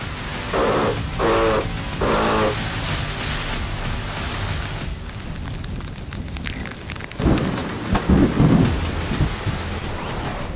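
A heavy rain squall lashes a sailing boat at sea in the Atlantic, a loud continuous roar of rain and wind with gusty surges and deep rumbling swells, close and enveloping throughout.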